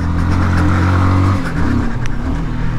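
A SYM NH Trazer 190i motorcycle climbs a dirt trail with its engine revving hard, the pitch dropping and surging as the rear tire slips for traction, close and loud throughout.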